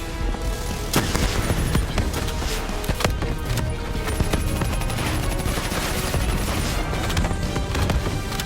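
Loud, dense gunfire in the Call of Duty Black Ops 3 video game, with rapid automatic bursts and sharp single shots overlapping continuously, plus occasional heavier booms in a busy battle mix.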